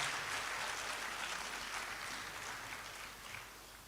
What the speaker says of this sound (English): Can we give them a very big applause?